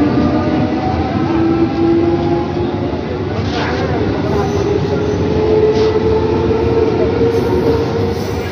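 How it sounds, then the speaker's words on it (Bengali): A local train rolls into Saktigarh station on the Bardhaman–Howrah main line, with a steady loud rumble of wheels and carriages and a rising whine throughout, some talk faintly under it. "আমাদের ট্রেন এখন ঢুকছে শক্তিগড় স্টেশনে।"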